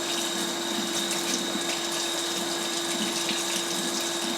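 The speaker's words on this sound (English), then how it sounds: "I'm going to take and give this a good rinse." Steady tap water runs over a freshly cleaned lobster for a rinse, a continuous close hiss with a faint pump-like hum beneath, no talking.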